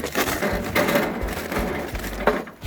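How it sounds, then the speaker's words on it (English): Charcoal briquettes are set across the bottom of a TEPRO Biloxi offset smoker, making a few close, dry clunks and gritty scrapes in a short burst. "So you're going to set a few briquettes up across the bottom."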